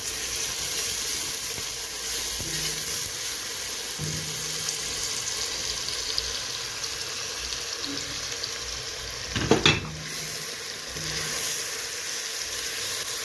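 Chopped tomatoes are stirred into golden frying onions in a pot for shrimp soup, a steady close sizzle running throughout, with a brief clatter of the spoon near the end.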